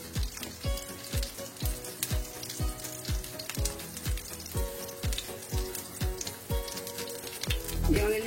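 Aubergine slices fry in a pan with a steady crackling sizzle, broken by rhythmic soft taps and pops at close range.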